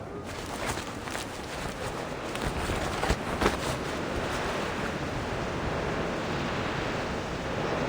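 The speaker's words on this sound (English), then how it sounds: "What with this wind, eh?" Strong wind roars steadily and loudly in Reverse: 1999, a broad, unbroken gusting rush that fills the whole scene with only slight surges.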